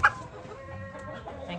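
Chickens cluck softly nearby on a frosty farm morning, a low murmuring of hens with a brief louder squawk at the start.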